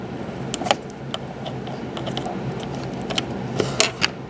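Janome sewing machine stitching a buttonhole, with a soft continuous mechanical whir and scattered clicks and ticks of the mechanism, close up with no talking.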